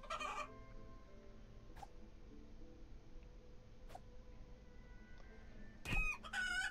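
Video game chicken clucking and crowing at the start and again near the end, fairly clear against a low steady game ambience with a few faint clicks between.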